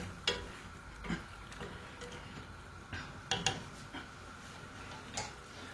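Wine simmers in a pot for homemade chicken rillettes, with faint, irregular soft pops and ticks about once a second over a quiet bubbling hiss.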